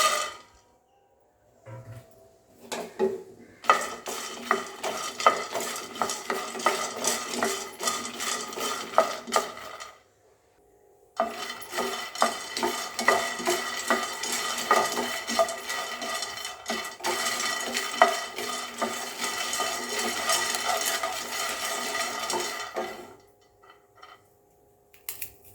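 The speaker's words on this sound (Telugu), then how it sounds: "ఒక స్పూన్ ఆయిల్ పోసుకుని దీన్ని పూల్ మక్నీ రోస్ట్ చేసుకుందాం ఫ్రెండ్స్." Pool makhana (fox nuts) roasting in a spoonful of oil, stirred in a pan with a spoon, giving a dense, continuous rattling clatter in two long stretches separated by a brief pause, close and without talk.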